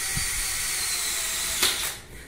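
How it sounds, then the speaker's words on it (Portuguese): A drill bores holes in a tempered glass shower panel during a bathroom shower enclosure installation, giving a steady, loud, hissing whine that runs throughout and fades out at the end. "vai fazer dois furinhos aí e já levar furado daqui pra lá"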